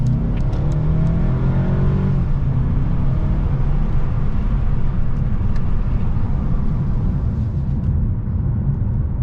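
In sport mode, a 2021 Mercedes-Benz A 220 4Matic sedan with a 2-liter inline-4 accelerates hard. The engine note rises in pitch through the early revs, then settles into a loud, sustained drone with road rumble.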